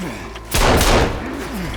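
Gunfire in the survival video game Sons of the Forest: a loud burst of overlapping shots and thuds lasting about half a second, set against game ambience and a few faint tonal sounds.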